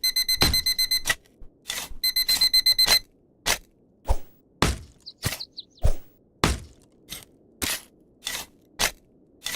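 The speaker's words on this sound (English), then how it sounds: "And there's the nighttime alarm." A nighttime alarm in the video game Dig for Riches: a rapid electronic beeping alarm in short bursts, followed by a steady series of sharp, evenly spaced clicks or ticks.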